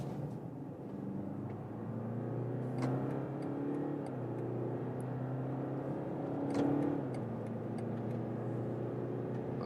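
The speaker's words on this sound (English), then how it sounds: "let's repeat this acceleration" Diesel car in sport shift mode pulling hard from 50 km/h, engine pitch climbing steadily with two distinct gear changes, a continuous interior drone with faint clicks on top.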